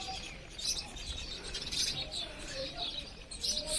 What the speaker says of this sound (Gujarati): બસ ચકલીઓનો અવાજ આવે છે